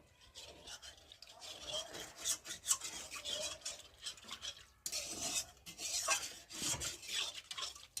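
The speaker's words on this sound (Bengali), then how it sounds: "আর এখন কড়াতে জল দেবো, দিয়ে কড়াটা একটু ধুয়ে নেব।" A wok is scrubbed and rinsed with water, producing uneven bursts of rubbing, scraping and splashing, with a short pause midway before the scrubbing resumes more vigorously.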